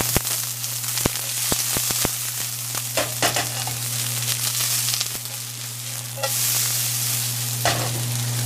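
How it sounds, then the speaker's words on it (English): Julienned onions stir-frying in a hot wok give a loud, constant sizzle with sharp clacks and scrapes of a spatula scattered through it and a steady low hum underneath, with no talking. "I'm going to start off with my wok here, and I'm going to put my julienne"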